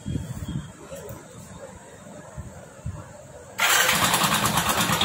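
A Hero Splendor Plus motorcycle with a reported abnormal engine noise sits quiet under faint low rumbling, then its engine fires up abruptly and keeps running loudly and close by for the last second and a half.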